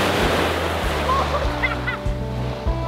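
Sea waves wash and slosh close by around a swimmer off Lefkada Island, Greece, a steady broadband surf with some wind noise, brief and continuous.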